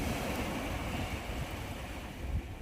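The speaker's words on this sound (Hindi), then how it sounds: "समंदर का लहरों का साउंड" Sea waves wash steadily in a continuous broadband roar, with occasional swells of surf rising and falling and no voices.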